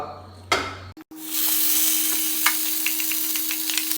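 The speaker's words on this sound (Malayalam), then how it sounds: "ഇനി നമുക്കിത് പാനിലിട്ട് ചൂടാക്കി എടുക്കാം." A cassava mixture sizzles and fries in a hot oiled pan, with a bright, continuous hiss and crackle after a sharp clatter of it going in, plus scraping stirs over a low steady hum.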